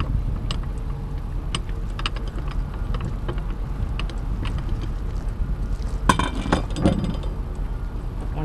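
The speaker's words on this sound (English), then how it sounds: "What you use is you use the end of your winch handle to break that nut." Metal winch handle end working the nut on a bronze winch of a 1965 Alberg 30 sailboat, scattered small metallic clicks and clinks over a low background rumble, with a sharper clatter near the end.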